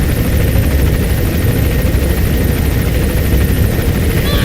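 Helicopter arriving in Metal Gear Solid V: The Phantom Pain, a loud steady rotor roar with rapid blade chop, filling the whole clip at constant close range with no voices over it.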